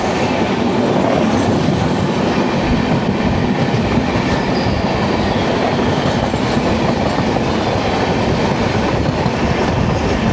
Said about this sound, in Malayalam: കേരള എക്സ്പ്രസ് വന്നുകൊണ്ടിരിക്കുകയാണ്. പുത്തൻ ലോക്കോയാണ് 37864.